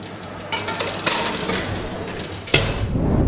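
A pan of syrniki, cottage cheese pancakes made with semolina, goes into an oven preheated to 180 degrees, with a few sharp metallic clinks and clatters of the pan against the rack, close and fairly loud, no talking.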